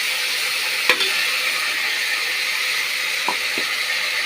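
Ginger, garlic and green chilli paste fries in a pan with a steady broadband sizzle, broken by a few brief stirring clinks near the start and end; no one speaks.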